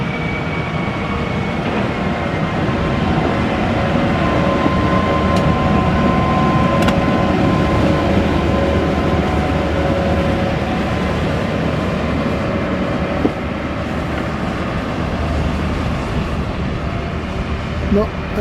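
A train rolls past at Washford Station on the West Somerset Railway, a loud continuous rumble with rail noise and a few sharp clicks, while people talk over it.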